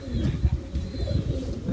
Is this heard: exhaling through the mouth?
no